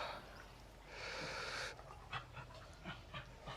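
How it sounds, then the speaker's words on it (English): A dog pants close by in soft, quick, rhythmic breaths, quiet overall, with a brief breathy surge partway through. "Yes, that is my dog making that noise."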